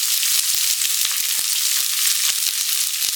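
Cabbage and carrot pieces fry in hot oil for homemade chicken fried rice, giving a loud, steady sizzling hiss peppered with sharp crackles and pops throughout, with no talking.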